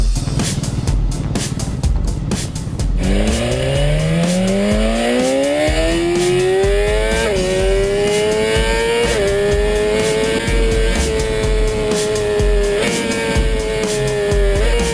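Motorbikes on a touring ride in Vietnam: after a brief rustle, an engine starts and revs upward into a loud, steady drone, with rising and falling pitch as it shifts through gears.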